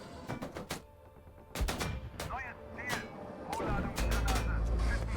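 Gunfire strikes a T-55A tank in the PC tank game Gunner, HEAT, PC!, with sharp cracks in several irregular bursts, some near and loud, heard through background rumble.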